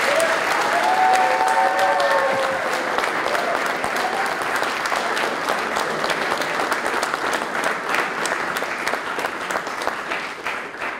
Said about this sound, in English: give Andres a big round of applause